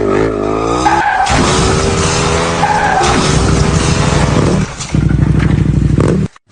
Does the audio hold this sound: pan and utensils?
no